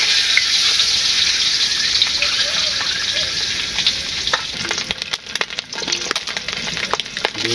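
An egg fries in a pan on a village cooking fire with a loud, continuous hiss, joined later by sharp, irregular crackles and pops up close.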